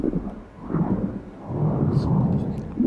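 Storm thunder in the video game No Man's Sky rolls as a deep, sustained rumble that swells and stays loud throughout, with a voice speaking over it.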